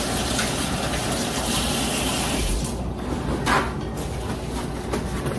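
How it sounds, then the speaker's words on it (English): Running tap water gushes steadily as hands are rinsed at a kitchen sink while making banana cookies, a continuous close splashing flow that stays loud and even throughout. "Rinse my hands off real quick."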